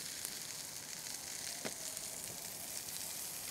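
Hot oil sizzles steadily in a frying pan while salmon steak cooks, a continuous close crackling hiss with a brief sharper spit partway through and no talking.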